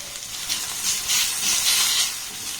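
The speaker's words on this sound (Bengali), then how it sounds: "রসুনটা দেখুন একটু ভাজা ভাজা করে নিয়েছি" Grated garlic frying with onion and chilli in a pan gives a close, steady hiss with gentle swells of sizzle, brief and without speech.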